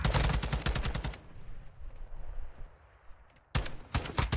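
Rapid gunshots in a first-person shooter, a fast loud burst of automatic fire, a quiet gap, then another sharp burst close up.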